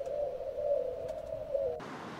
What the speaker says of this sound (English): a bunch of doves come and fly all the eagles away